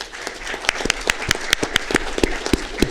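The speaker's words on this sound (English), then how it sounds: "Let's give him a round of applause." Scattered hand clapping at a city council meeting, a modest group of sharp, distinct claps in an irregular rhythm, fairly near and alone without talk.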